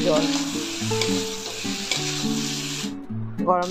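Pieces of taro (kochu) sizzle and crackle steadily in a hot pan as they are stirred, with a continuous frying hiss underneath the stirring, while a melodic music track plays over it throughout.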